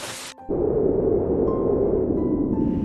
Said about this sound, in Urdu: ان برف کے ٹکڑوں کو ہم اولے کہتے ہیں اور اس بارش کو ہم یالا باری کہتے ہیں